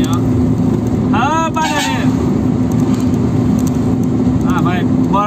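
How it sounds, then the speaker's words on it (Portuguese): A truck loaded with bananas passes on a highway in a banana-growing region, its broad road and engine rumble steady and loud throughout, with a voice speaking over it in the middle. "Caminhão carregado de banana aí"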